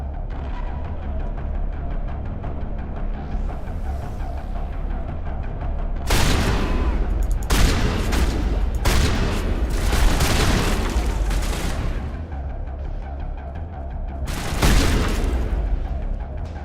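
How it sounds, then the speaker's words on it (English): Enemy gunfire in Mass Effect Legendary, several loud bursts of shooting and booms arriving in clusters over a continuous low rumble, with quieter stretches between them. "why are they shooting at me?"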